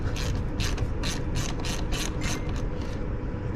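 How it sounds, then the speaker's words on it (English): A ratchet turning a 10mm socket on the negative battery terminal of a Ram truck, making a close series of quick, evenly spaced metallic clicks in steady bursts. "We can do this with a 10mm socket on a ratchet."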